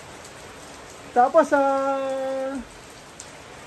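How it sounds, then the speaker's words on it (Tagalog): Rain falls outdoors on a farm, a steady soft hiss running in the background. A single word is spoken partway through. "Ayan, inabutan ako ng ulan."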